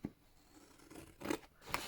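Scissors snip through paper pieces in a few quiet, close cuts, with sharp short snips near the start and end and soft rustling between.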